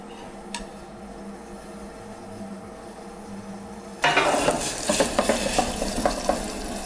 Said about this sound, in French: Nous allons réchauffer dans un jus de bœuf et la laquer au jus de bœuf